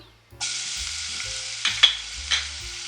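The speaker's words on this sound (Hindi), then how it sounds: "लहसुन को हमने ब्राउन नहीं करना, बस थोड़ी देर के लिए सौते करना है, 30 सेकंड के लिए बस।" Garlic sizzles steadily in hot cooking oil for momo sauce, a close continuous frying hiss broken by a few stirring scrapes, with no voices.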